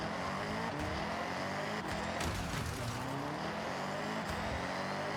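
A turbocharged car in the racing video game Forza Horizon drives continuously, its engine droning steadily and loudly throughout with slight shifts in pitch and no talk.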